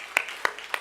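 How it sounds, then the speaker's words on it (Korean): Three distinct claps in a church congregation, evenly spaced and fairly close, within under a second. "우리 박수로 축복하겠습니다."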